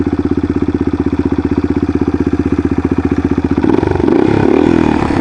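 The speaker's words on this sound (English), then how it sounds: "That's that new DG muffler." Motorcycle fitted with a new DG aftermarket muffler idles close by, a steady loud lumpy pulse for several seconds before the engine note roughens and swells slightly toward the end, with no talking.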